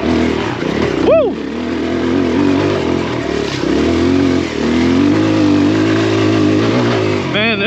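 A Kawasaki KLX140RF dirt bike engine revs hard and steadily while climbing a hill, close and loud for the whole stretch, with brief rider exclamations at the start and end.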